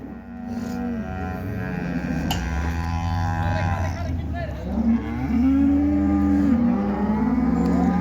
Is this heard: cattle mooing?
yes